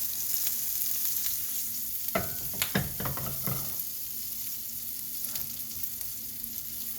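Vegan chickpea burger patties frying in a pan on medium-high heat, giving a continuous sizzle with a few louder scraping and pan knocks in the middle, and no voices.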